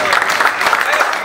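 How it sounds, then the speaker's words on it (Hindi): Brief burst of audience clapping at a Punjabi poetry gathering, dense and steady, with voices mixed in. "एक बार जोर जोर ताली होनी चाहिए"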